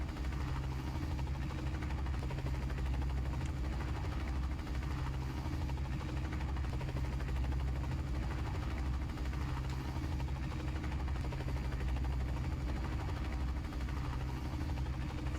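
A UH-1C Huey helicopter in Microsoft Flight Simulator 2020 hums with a steady, low engine drone and a faint rhythmic rotor throb that continues evenly throughout, with no talking.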